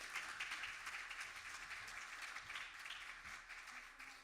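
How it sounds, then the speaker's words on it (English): Faint, distant round of audience applause for panel speakers at a fintech masterclass event, steady dense clapping that slowly thins out over several seconds with no talk over it. "big round of applause for everybody."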